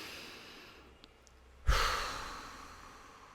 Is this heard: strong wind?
no